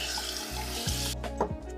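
Warm tap water runs steadily into a sink while a face is rinsed. The flow is loud and close, broken by brief splashes and shifts as hands move through the stream.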